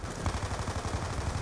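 Rapid, continuous gunfire from automatic weapons in a Call of Duty zombies survival match. The shots run as a dense, loud, even stream with no voices over them.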